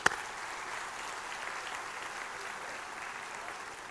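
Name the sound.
audience applause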